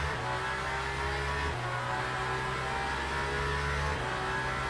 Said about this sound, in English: Listen to that engine, though.